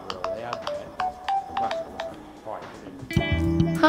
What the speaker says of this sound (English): I thought I just dialed this number